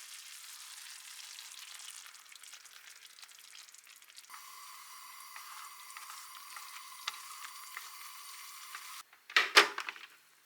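Egg poured into simmering dashi with onion for katsudon, a soft continuous sizzle and bubbling that shifts partway through, ending with a few sharp clatters of pan or utensil.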